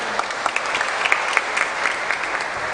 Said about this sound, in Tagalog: Sipag niyong pumalakpak.